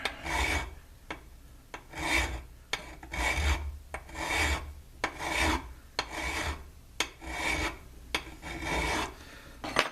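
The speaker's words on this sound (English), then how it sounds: "While I was filing away at this" Hand file rasping on a box mod enclosure for a dual-18650 build, rhythmic back-and-forth strokes about twice a second, close and distinct with short pauses between strokes, no talking.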